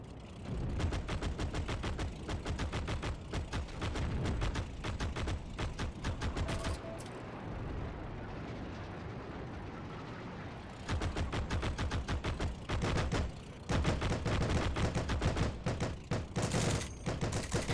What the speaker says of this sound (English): I'll shoot at that barn in front of us.